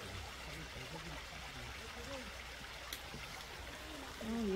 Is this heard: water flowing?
yes